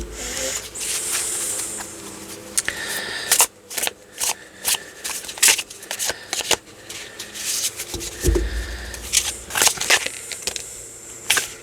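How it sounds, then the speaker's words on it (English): Close, loud shuffling of tarot cards with repeated riffling bursts and sharp flicks, continuing steadily with short pauses between shuffles. "Am I shuffling that really loudly? That felt really loud."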